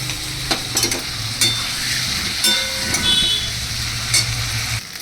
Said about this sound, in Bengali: এবার এই ডালটাকে বেশ ভালো করে কষিয়ে নেয় মশলার সাথে, ওই ঝিঙেগুলোর সাথে।